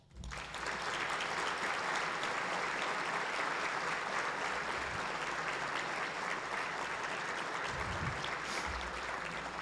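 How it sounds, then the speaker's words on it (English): Sustained applause from a room full of people at a county address event, starting suddenly and holding steady, with no talking over it. "please join me in thanking all of our unsung heroes by a sincere round of applause"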